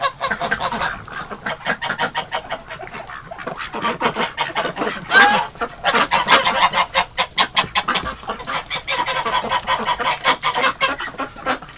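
Geese in a cold winter shelter honk loudly and repeatedly, with dense overlapping calls in rapid bursts that fill the space, a few squawks rising above the flock and no voices heard.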